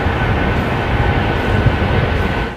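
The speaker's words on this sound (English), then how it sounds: "you jump into your Gulfstream G550 private jet and head to the country of origin" A Gulfstream G550 private jet in flight, giving a loud, steady, broadband roar that holds evenly and then drops away at the very end.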